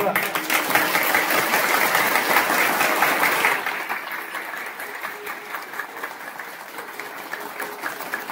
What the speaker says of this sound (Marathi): ज्याच्या लो बीपी आहे जोरात खालून टाळी वाजवा, ठळ ठळ ठळ ठळ वाजवा।